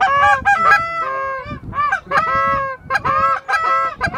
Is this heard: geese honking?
yes